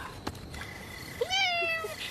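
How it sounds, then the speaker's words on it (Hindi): A single cat meows once in a drawn-out, wavering call in a quiet indoor village-home setting, close and clear, with a faint short sound just before it. "हाँ, दूसरी बिल्ली।"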